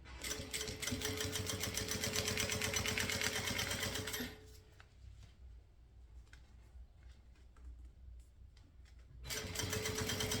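Close, loud sewing machine runs steadily on synthetic crossbody-bag material for about four seconds, falls into quiet handling noises, then starts stitching again near the end.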